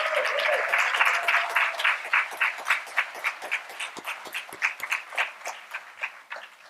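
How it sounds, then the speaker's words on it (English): Commencement audience claps for graduates at a hooding ceremony, dense applause at first that thins into scattered individual claps and fades toward the end. "Let's give our graduates one more round of applause."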